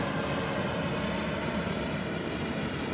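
Steady, broad engine roar of an airplane droning overhead at constant loudness, dense and continuous with no breaks or voices.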